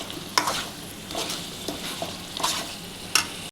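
Chicken frying with coriander masala while a spoon stirs it, making a continuous sizzle broken by sharp scraping strokes about every second, close and alone.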